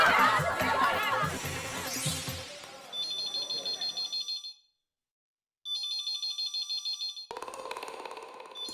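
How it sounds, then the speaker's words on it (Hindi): An electronic phone ringtone repeats in a rapid trilling pattern, pauses briefly, then rings again, following a stretch of music and chatter in a Hindi TV comedy scene. "दया फोन क्यों नहीं उठा रही है?"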